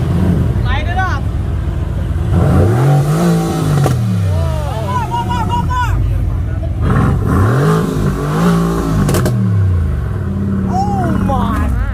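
At an outdoor car meet, a sports car engine revs hard in repeated rising and falling bursts, loud and close, with people talking over it.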